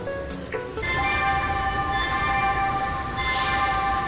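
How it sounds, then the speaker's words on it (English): A Los Angeles subway train running through the underground, a steady rumbling roar with high sustained tonal whine from the wheels and motors, close and loud, preceded by a few brief clunks. "I didn't know there's a subway in LA, but there is, and I'm there."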